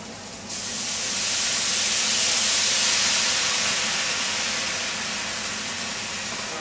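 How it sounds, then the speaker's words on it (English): Red wine hits a hot cast iron dish to deglaze lamb drippings, bursting into a loud, sustained sizzling hiss that swells and then slowly eases off, close up with no talk. "I'm going to chuck that straight into our cast iron dish here, just to deglaze it"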